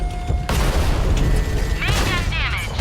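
Tank cannon shots in World of Tanks land during a console match on Erlenberg, a heavy boom kicking off a dense, loud stretch of gunfire and crashing impacts, with some voice over the battle noise.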